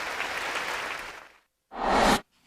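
Audience clapping during President Yoon Suk Yeol's English speech to the US Congress, a dense burst of applause that fades out, then a second short loud round after a brief silence.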